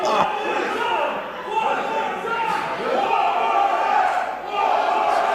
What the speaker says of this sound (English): This crowd wants it again.